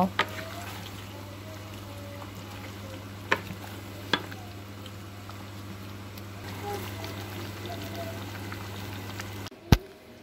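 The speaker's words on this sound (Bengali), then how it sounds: "এখন আমি দুটোকে ভালো করে নেড়ে চেড়ে মিক্স করে দিচ্ছি" Fish and potatoes being stirred together in a pot on the stove, a soft scraping and sizzling bed with a few sharp utensil knocks against the pot over a steady low hum.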